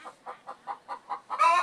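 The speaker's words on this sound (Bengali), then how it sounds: "আমার টাইগার মুরগির খামার দেখতে পাচ্ছেন।" Tiger chickens on a poultry farm clucking in a steady series of about seven short, evenly spaced calls, close and fairly quiet, ending in a louder, harsher squawk.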